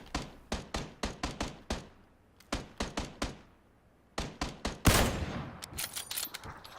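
Gunfire in the video game PlayerUnknown's Battlegrounds comes as rapid bursts of evenly spaced, punchy shots, broken by short pauses, then ends in a louder, denser volley.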